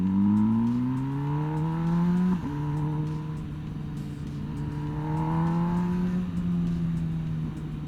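An MV Agusta Brutale 1000 RR motorcycle engine revs up and down in sustained rising and falling pitches, with a sharp drop near the middle before climbing again, loud and close with no talking.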